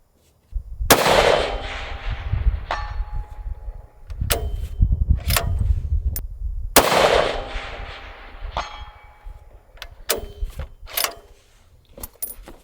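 Shots from a .308 rifle firing 175 grain Sierra Match King ammunition crack out at a range, two loud blasts with ringing decay followed by metallic clanks and clicks of handling, near and alone.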